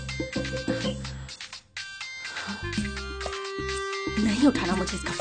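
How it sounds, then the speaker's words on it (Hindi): A mobile phone ringtone plays a repeating melodic tune, fairly loud and close, cycling for several seconds with brief gaps between phrases. "इसका फोन क्यों आ रहा है?"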